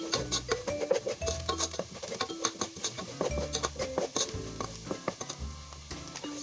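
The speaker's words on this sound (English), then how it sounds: "Give it a quick stir." Flour is briskly stirred into a sautéing roux in a pot, with quick rhythmic spoon strokes and taps against the metal over a light sizzle, close and busy.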